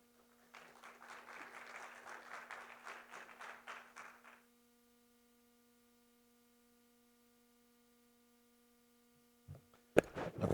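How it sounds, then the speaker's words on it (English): Audience applause fills a conference hall for a speaker introduced as head of Indonesia's JETP Secretariat, a steady burst of clapping lasting about four seconds over a faint electrical hum, then quiet before brief rustling and handling noise. "Let's have an applause for Pak Paul."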